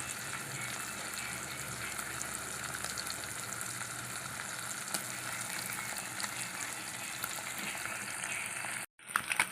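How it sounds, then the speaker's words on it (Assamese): Fish frying in hot oil for an Assamese elephant apple fish curry, giving a steady, loud sizzle that continues throughout, with a brief dropout near the end and no talking. "এতিয়া মই মাছখিনি ফ্ৰাই কৰি ল'ম।"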